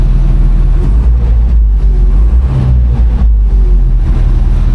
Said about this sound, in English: Now you hear the engine.